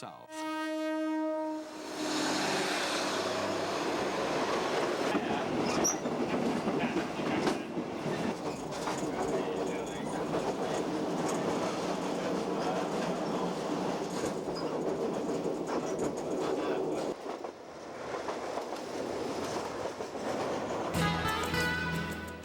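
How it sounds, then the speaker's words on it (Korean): Train departing a station in Thailand and heading south, starting with a horn blast, then a long steady rumble and rhythmic rolling of wheels on the rails, fairly loud and close throughout, with a brief horn again near the end. "기차는 다시 남쪽을 향해 출발합니다"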